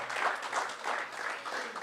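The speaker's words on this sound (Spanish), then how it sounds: "Póngase de pie y denle un aplauso fuerte al Señor." A church congregation claps in a steady, lively burst of applause that fills the room, moderately loud and even throughout, with no one speaking above it.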